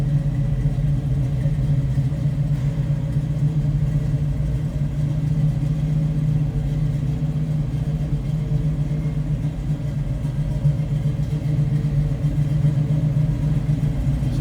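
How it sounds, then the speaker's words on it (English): A 1972 Chevrolet Nova's small-block V8 engine idles steadily nearby, a deep, continuous low rumble with a faint rhythmic lope and no voices. "A little rumble coming out of that small block."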